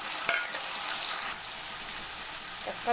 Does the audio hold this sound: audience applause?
no